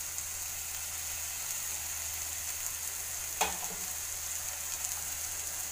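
Ginger garlic paste frying with onion in a pan makes a steady, moderate sizzle throughout, with one brief clink or stir sound partway in and no talking.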